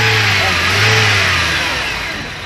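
A car's engine running with the hood open at a large car and motorcycle fair in Caruaru, close and loud, revving up briefly then easing back toward idle, with no talk over it.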